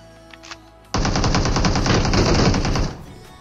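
Gunfire in a shooter video game, heard as a loud, rapid automatic burst lasting about two seconds, after a couple of faint sounds.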